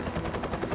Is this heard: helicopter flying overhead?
yes